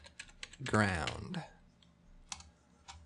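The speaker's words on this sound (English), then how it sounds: "hit Return on the keyboard," Light taps on a computer keyboard, a handful of scattered, close clicks before and after a short burst of speech, with quiet room tone between keystrokes.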